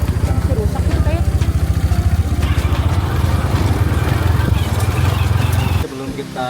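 A motorcycle engine runs in a steady, low, throbbing rhythm close by for several seconds, then drops away abruptly near the end.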